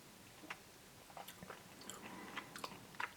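Someone bites into and chews breaded McDonald's Nacho Cheese Snackers, which are less crunchy than expected. Several faint, soft crunches come at an irregular pace, close and quiet, with no talking.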